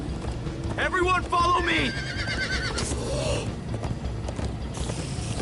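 Horses in Minecraft neighing and whinnying, with clip-clop hooves and clattering mechanical noises close by, while a voice shouts over the commotion.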